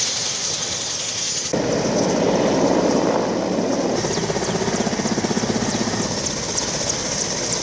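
An MI-17 helicopter flying during a rescue operation in Sri Lanka, its rotor chop loud and steady with a rapid rhythmic beat, close and continuous with no talk.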